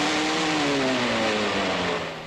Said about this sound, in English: A number of bulldozers are used to pull trains of trucks through the deepest stretches of mud